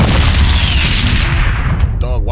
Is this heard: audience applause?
no